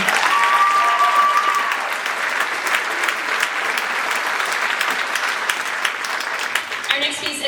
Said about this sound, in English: One more round of applause for Aaron.